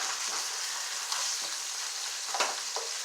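About a pound of fresh halal ground beef browns slowly over a low flame in a frying pan, giving a continuous soft sizzle with a few faint scrapes of stirring, heard up close without speech.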